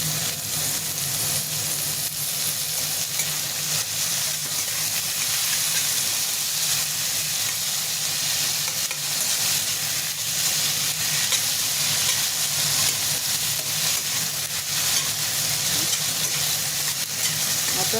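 Potatoes and tomatoes fry for pulao with a loud, unbroken close-up sizzle and hiss of oil and steam that holds steady throughout, with no talking.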